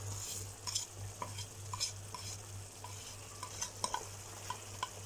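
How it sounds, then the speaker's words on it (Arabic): Spices are stirred into a frying tomato sauce in a pan, with a steady sizzle underneath and repeated scraping, clinking stir strokes at close range, and no talking. "هنحط بقى كل البهارات الحلوه دي في التقليه بتاعتنا"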